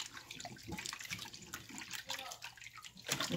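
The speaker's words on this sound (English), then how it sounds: "you want to keep washing, like I said, until the water's clear" Water runs and splashes steadily as flour dough is washed by hand in a bowl to make seitan, kneading and sloshing continuously at moderate volume.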